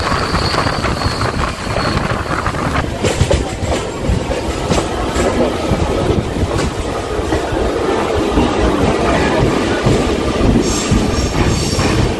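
A local train from Katwa to Bardhaman runs along the line, loud and close from inside the carriage, with steady rumbling, rhythmic wheel clatter and occasional wheel squeal.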